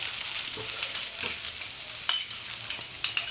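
A spiced cauliflower filling for Bengali samosas fries in a pan with a faint hissing sizzle while a spoon stirs it, bringing a few scraping and tapping knocks up close.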